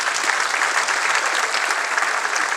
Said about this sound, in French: Merci Benoît, vous pouvez l'applaudir.